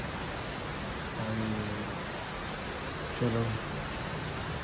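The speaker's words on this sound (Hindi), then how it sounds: "इतनी बारिश हो रही है कि क्या बोलूँगा।" Heavy rain pouring at night, a dense, steady hiss filling everything, with someone briefly speaking over the downpour.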